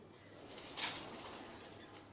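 Pigeons coo softly at a distance in an aviary of rare birds, with a brief brighter call and light rustling in the middle.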